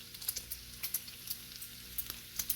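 Bacon sizzles on a flat griddle, a dense steady crackle with frequent sharp pops in quick irregular bursts, close and moderately loud with no talk.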